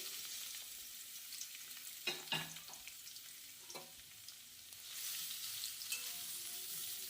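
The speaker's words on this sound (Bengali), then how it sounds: "এবার কেটে রাখা আমলকিগুলো কড়াতে দিয়ে দিলাম।" Cut gooseberries hit hot mustard oil with two dried red chillies in a wok and fry, with a soft steady sizzle, a few sharp clatters of stirring, and a bright surge of hissing near the end, no talk.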